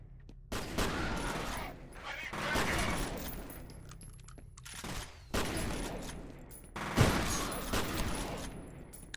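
An automated turret in F.E.A.R. rattles off several long bursts of rapid gunfire, loud and close, separated by short pauses of near quiet.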